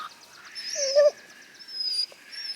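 Excited dogs whimper on a farm in the morning, high thin whines and a short squeal rising in a few brief bursts over a quiet background.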